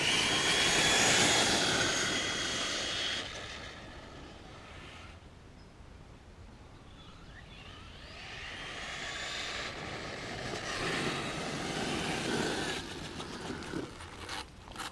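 An HPI Savage RC truck makes a speed run, its motor a whining, jet-like roar that is loud at first, dips as it moves away, then swells again with rattling bursts.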